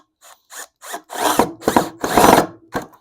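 Cordless power drill driving a screw through a steel hairpin leg into a wooden console or end table, heard up close as a string of short bursts that lengthen into longer whirring runs with a final quick blip, no talking.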